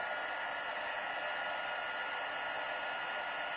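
A heat embossing gun blows hot air during a Black Ice stamping technique, giving a steady, loud, even hiss and whoosh that runs unbroken from start to finish.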